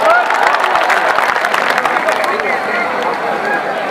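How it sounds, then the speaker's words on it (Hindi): Loud, dense applause and crowd noise at an election rally after a nomination filing, a continuous roar of many hands and voices that stays strong throughout. "इस भाई के लिए एक जोरदार ताली हो जाए भैया।"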